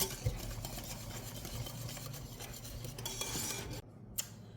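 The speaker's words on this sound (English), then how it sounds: "Here, you whisk it." Pie filling of heavy cream and evaporated milk being whisked in a bowl, a steady close scraping and light clinking of the whisk that runs continuously, then drops away near the end.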